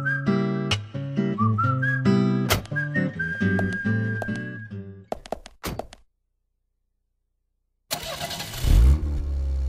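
A car engine starting in the video game Deadly Premonition: a run of clunks and mechanical tones, then a short burst of sharp clicks and a brief silence before the engine catches with a loud, close roar.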